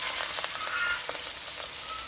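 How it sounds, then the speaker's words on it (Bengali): Rui fish frying lightly in a pan gives a steady, close hiss of sizzling oil with small crackles and pops scattered across the whole stretch, and no voices. "মাছটা হলো বাইজে নিব হালকা করে"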